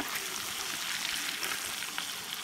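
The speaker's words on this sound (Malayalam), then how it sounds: "എണ്ണ നന്നായി ചൂടായതിന് ശേഷം നമുക്ക് ചിക്കൻ എല്ലാം ഫ്രൈ ചെയ്തെടുക്കാം." Chicken pieces fry in well-heated oil for Kerala-style chicken kondattam, giving a continuous, moderately loud bubbling sizzle with fine crackles and no voices.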